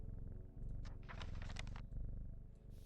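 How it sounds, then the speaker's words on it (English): Cat purring when petted in the video game Strange Horticulture, a low continuous rumbling purr with soft crackly rustles on top. "Pet the cat."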